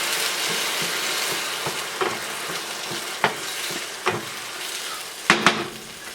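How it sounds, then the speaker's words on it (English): Tomatoes fry in a pan for patatas bravas, a steady sizzle broken by several sharp clinks and scrapes of stirring against the pan. "Now I'm going to throw our tomatoes in here."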